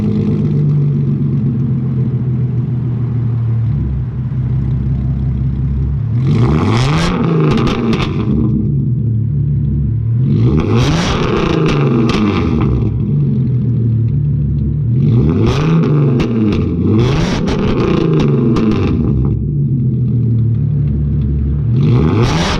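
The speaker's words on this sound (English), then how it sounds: "We'll start it off with a warm start and some revs." Warm-started Hyundai Genesis Coupe engine idles loudly, then gets four or five sharp revs in bursts that rise and fall, close to the listener with no talking.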